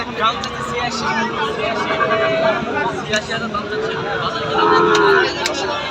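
Bulls for sale at a busy cattle market, with occasional lowing rising over a steady crowd babble and nearby conversation throughout.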